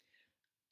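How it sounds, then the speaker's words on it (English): A single short cough near the end of a nearly silent moment, preceded by a faint throat sound. "Excuse me if I just cough a bit because of my throat"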